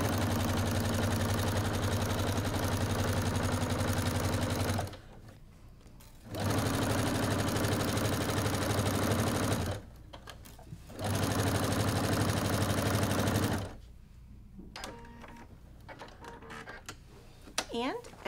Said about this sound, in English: we're gonna start stitching over the previous stitches